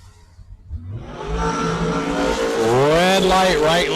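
A dragster and a '74 Dart launch side by side off the line at a bracket drag race, engines roaring up sharply from near silence into a loud, climbing, sustained rev.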